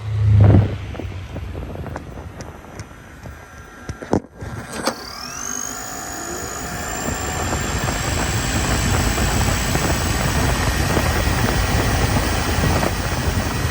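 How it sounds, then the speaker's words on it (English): Partway through, the electric AC compressor of a 2021 Toyota Sienna kicks on with a rising whine that settles into a steady high hum, over a growing broadband rush of airflow. "You can hear the electric compressor."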